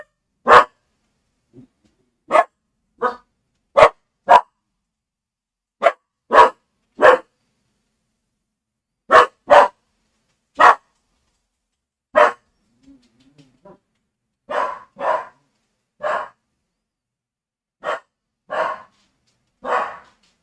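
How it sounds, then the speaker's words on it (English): A dog barks again and again indoors, sharp loud single barks at irregular intervals with short gaps of silence between them, close to the microphone, with no talking. "Oh, this dog's just barking like crazy"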